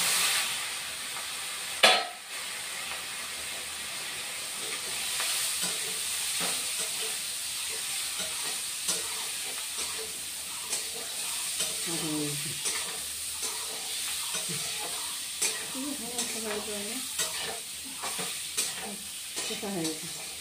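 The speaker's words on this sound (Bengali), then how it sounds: "আলুটা ভেজে নেব।" Boiled potatoes frying in a pan give a steady close sizzle and hiss, with scraping strokes of a ladle stirring them throughout and faint voices now and then in the background.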